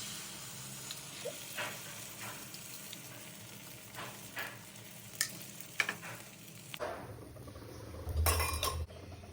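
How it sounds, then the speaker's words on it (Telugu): In a preheated pan on a stove, butter fizzes softly while utensils clink and scrape now and then, ending in a louder burst of sizzling and clatter, all fairly quiet and without speech. "ఇప్పుడు స్టవ్ మీద ప్యాన్ పెట్టుకొని ప్రీహీట్ చేసుకొని బటర్"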